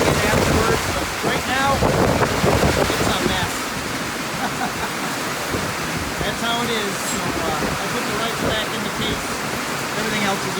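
Heavy rain and gusting wind at an outdoor military rifle shoot in May, a dense roar that buffets the microphone throughout, with faint voices buried underneath.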